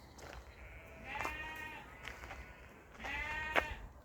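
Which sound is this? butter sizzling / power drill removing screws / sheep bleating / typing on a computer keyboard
sheep bleating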